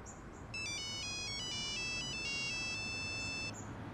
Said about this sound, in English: a ringtone selector, so everyone can set their favourite Nokia ringtone